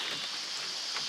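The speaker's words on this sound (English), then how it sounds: "It's raining now." Steady rain falls outdoors during a catfishing trip, a dense even hiss with faint patter that runs unbroken for about a second, with no voices.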